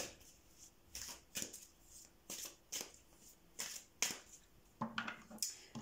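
Tarot cards being shuffled in a quiet room, a series of about ten crisp riffling bursts at uneven intervals, close and fairly soft, with no voices.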